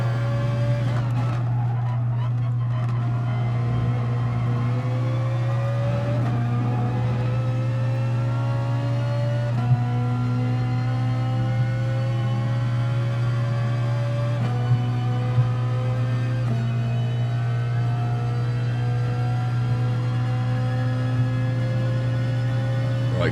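A Ferrari 458 racing at Lagos in GT Sport, its engine a loud, sustained whine rising through the gears with repeated upshifts and a steady low drone beneath, no talk.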